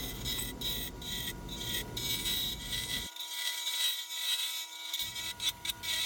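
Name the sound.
turning acrylic pen blanks round on a lathe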